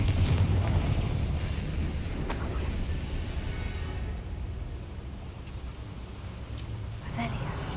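The Confringo fire spell in Hogwarts Legacy bursts in a deep, roaring explosion that starts loud and close, then fades into a long rumbling tail, with a couple of faint later cracks.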